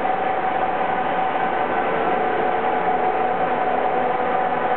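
A big Anyang 37-by-120-inch lathe with a 4-inch through hole runs with coolant flowing, giving off a steady, loud mechanical drone with a faint tonal whine that holds even throughout, and no one talking.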